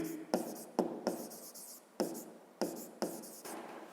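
Pen writing by hand on paper during a fifth-grade maths exercise, a series of quiet, close scratchy strokes in short bursts separated by brief pauses.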